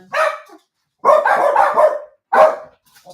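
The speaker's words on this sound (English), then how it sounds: "Let me just let the dog out." A dog barking loudly and close as it is let outside, a single bark, then a longer run of rapid excited barks and yips, then one more bark.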